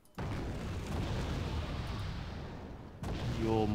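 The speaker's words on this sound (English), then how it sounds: "Your mortars have fallen short" Mortar shells exploding in the video game Wargame Red Dragon, a sustained rumbling blast followed by a second boom, with a voice briefly at the end.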